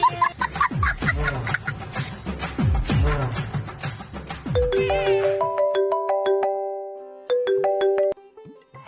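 A mobile phone ringtone plays a bright electronic melody of repeated chiming tones in the second half. It follows several seconds of dense, busy sound and ends abruptly.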